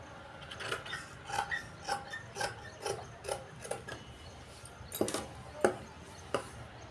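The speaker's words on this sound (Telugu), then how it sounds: "ఇప్పుడు కట్ చేస్తున్నానండి వెనక భాగం." Scissors cut the back piece of a blouse from fabric, a close, quiet series of evenly spaced crisp snips about every half second.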